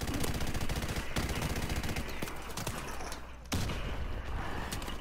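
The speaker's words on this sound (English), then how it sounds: "I'm getting shot at." Dense, rapid gunfire from Modern Warfare Remastered multiplayer crackles almost nonstop in overlapping automatic bursts, loud and close, with a brief lull before another burst starts.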